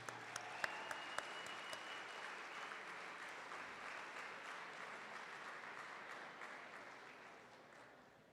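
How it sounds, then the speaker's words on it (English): Audience applause at the Bergen Catholic 2025 Gala, a dense, even roar of many hands clapping that holds steady and slowly fades near the end, with a few sharper claps standing out early on. "please give them a round of applause"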